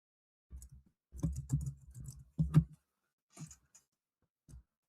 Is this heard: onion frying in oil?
no